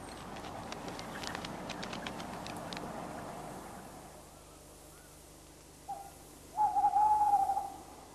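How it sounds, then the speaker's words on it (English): Quiet night ambience with a faint patter early on, then a tawny owl hoots twice, a short note followed by a longer wavering call, fairly close. "Tawny owls are often much in evidence in winter and can be heard defending their territories."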